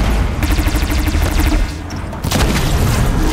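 In the video game Horizon Zero Dawn, rapid bursts of automatic fire and booms hammer loudly as a Thunderjaw's guns are destroyed, drop away for a moment, then erupt again.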